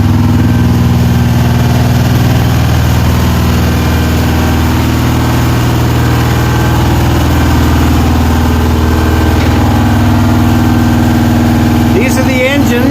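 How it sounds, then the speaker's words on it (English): Large marine main engines idle in a boat's engine room, a loud, steady low drone with constant machinery vibration filling the space throughout, and a brief voice near the end. "We'll go down to the engine room now."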